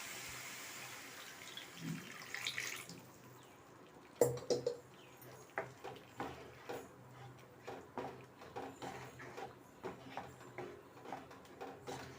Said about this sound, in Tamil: இப்போ நம்ம கொஞ்சம் தண்ணி சேர்த்துக்கலாம்.